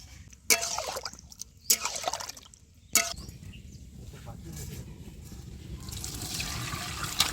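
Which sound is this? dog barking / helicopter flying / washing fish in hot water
washing fish in hot water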